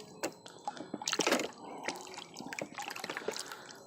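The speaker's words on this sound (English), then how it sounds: "So just take a stick and stir it up a little bit, preferably without sloshing it on you." A stick stirs a lye solution in water for cleaning cast iron, giving close, irregular sloshing and dripping splashes that come in small bursts, with one fuller swirl early on.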